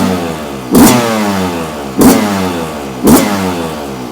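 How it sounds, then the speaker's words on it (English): A 2024 Yamaha YZ125X two-stroke motorcycle idles close and loud, with three sharp throttle blips spaced about a second apart, each dropping back to a steady idle. "Let's see if we can get this thing to start."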